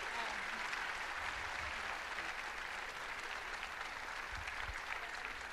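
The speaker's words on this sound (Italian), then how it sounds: "un applauso e grazie" Sustained applause from a political event audience at an Italian gathering with Zaia and Salvini, steady dense clapping throughout without pauses.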